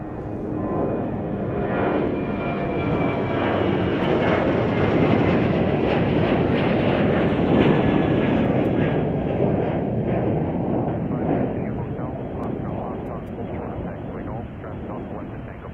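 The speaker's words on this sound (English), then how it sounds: "Royal Jordanian this afternoon is flying in on a 787-8 Dreamliner." A Royal Jordanian Boeing 787-8 Dreamliner at Chicago O'Hare gives a loud, sustained jet engine roar that swells and slowly fades, with a voice talking over it.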